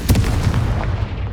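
A Confringo fire spell goes off in Hogwarts Legacy as a loud, booming blast that rumbles on briefly with crackling noise, heard alone.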